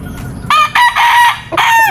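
A Boston Milliversan gamefowl rooster, a double-nosed bird, crows loudly and close by in two long strained calls, over a low background rumble.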